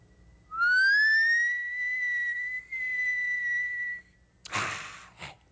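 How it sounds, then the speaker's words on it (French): A person whistles while drawing air inward, producing one sustained, fairly loud pure tone of about three and a half seconds with a brief dip partway. A breathy rush of air follows, with no talking. "Je fais entrer de l'air"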